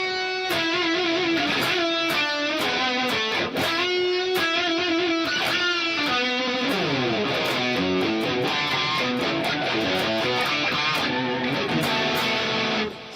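Electric guitar played through a long delay and stereo chorus: sustained chords and picked notes with repeating echo tails, loud and continuous, no talk.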